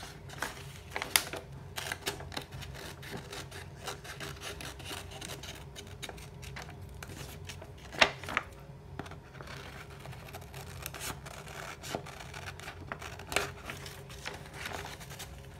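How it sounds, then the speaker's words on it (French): Scissors cut through homemade plastic glove material along a margin traced around a hand, giving a steady run of close, soft rubbing snips and rasping slides with a few sharper clicks, alone without talk. "On va venir découper. Au niveau de la marge que vous avez fait autour de votre main."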